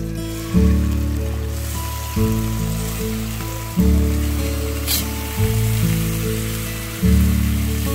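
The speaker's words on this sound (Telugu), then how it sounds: "ఇందులో ముందుగా నూనె పోసి అది కాగిన తర్వాత ఈ ముక్కలన్నీ అందులో వేసుకోవాలి" Baby corn pieces fry in hot oil in a pan, giving a steady, hissing sizzle that runs through the whole stretch beneath louder background music with repeating low notes.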